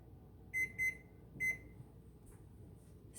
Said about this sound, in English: Timer, 1 hour.